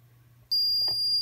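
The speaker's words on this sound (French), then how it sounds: "tous les voyants s'allument et le buzzer" A SAVE4 Type 4 230V fire alarm control panel sounds its buzzer during a lamp test: after a quiet low hum, a sharp, piercing electronic tone starts abruptly and holds steady, loud and close.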